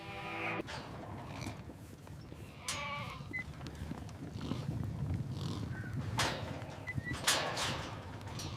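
Goats in the processing pens of an Australian goat processing plant bleat several times, some calls louder and nearer than others, over a constant low background clatter and shuffle.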